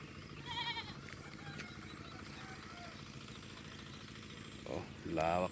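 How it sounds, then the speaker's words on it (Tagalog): A goat kept on a farm in Pangasinan bleats a few times, short wavering cries over a steady engine-like drone, with people talking nearby. "Ito yung kambing na kakatayin mamaya."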